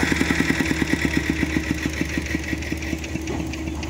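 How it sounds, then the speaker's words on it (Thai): A small engine-driven water pump runs steadily beside a roadside pond, draining water so fish can be caught, its idling engine chugging in an even, rapid rhythm close by, with no talk over it. "มันใส่เครื่องสูบน้ำนะครับแล้วก็เตรียมจับปลา"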